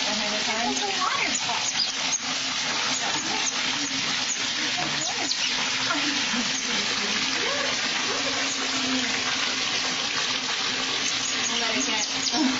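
Tap water running steadily into a bathtub with baby otters, a continuous splashing rush close by, with squeaky animal chirps and people talking over it.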